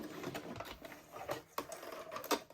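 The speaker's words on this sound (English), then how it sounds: "And then when you reach the end, do a quick little back stitch" Sewing machine running a quick back stitch at the end of a seam on roller derby helmet cover fabric, giving short bursts of rapid mechanical clatter with brief pauses between them, close and moderately loud.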